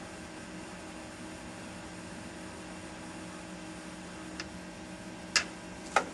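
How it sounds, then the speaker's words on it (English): A Waters 717 plus HPLC autosampler, its carousel spinning with a steady low mechanical hum, followed by a few sharp clicks and ticks near the end as it settles into home position, close with no talking. "Carousel spins, goes to home position."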